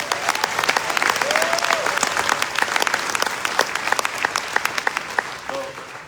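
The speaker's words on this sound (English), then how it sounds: "You ought to give these guys a hand." An audience applauds a panel of experts, a sustained full round of clapping from many hands with scattered louder claps, fading slightly at the very end.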